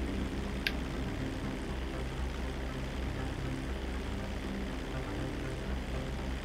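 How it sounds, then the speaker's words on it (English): A propeller airplane engine in the game GTA V drones steadily and evenly throughout, a low continuous hum with one brief click early on. "This is where Trevor just jumps out the plane and dies."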